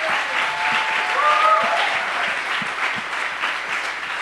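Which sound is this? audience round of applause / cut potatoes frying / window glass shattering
audience round of applause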